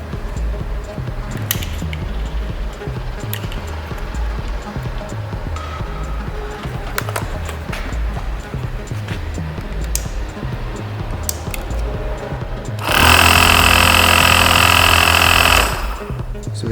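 Air suspension pump on a Bentley with collapsed suspension, bench-powered from a small mobility scooter battery, running in a steady mechanical churn with rhythmic pulsing, then a loud hissing burst of released air for a few seconds before the pumping continues.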